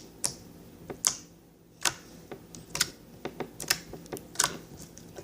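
Dino ooze putty from a dollar store is poked by hand, giving a series of soft, wet clicks and taps at an irregular pace, close and fairly quiet, with no talking.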